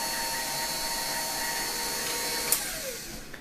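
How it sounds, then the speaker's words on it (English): A KitchenAid stand mixer runs at speed level 3, giving a steady, even motor whir with a high whine, heard close and alone. "So here's the KitchenAid. That's at about its level 3 on the KitchenAid."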